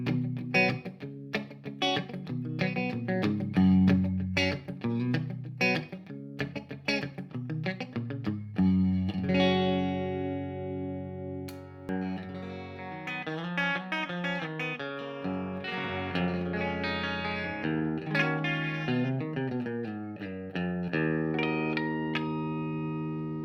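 Dry guitar played through a Brookfield tube amplifier with no reverb, strummed chords and single notes ringing loud and steady, somewhat driven, with no voices.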